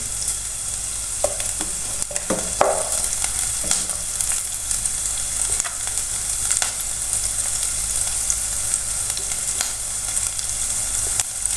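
Minced garlic frying in hot oil in a pan for a spiced potato chop and eggplant fritter dish, a steady dense sizzle running throughout with a few scraping stirs of a spoon early on, close and fairly loud, no talking.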